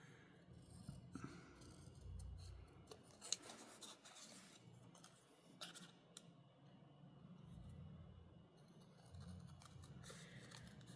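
Large scissors snip and rasp through paper in a quiet room, a series of close, irregular cuts with small ticks and rustles between them.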